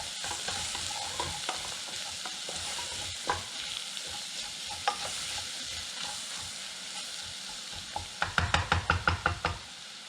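Spices blooming in hot oil in a pot for red lentil soup, a steady close sizzle and hiss with scattered stirring knocks, ending in a quick run of rhythmic spoon taps against the pot.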